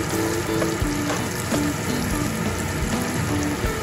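Sambal ikan bilis with tempoyak frying in a pan, a loud, continuous sizzle with bubbling crackle throughout, alone with no voices.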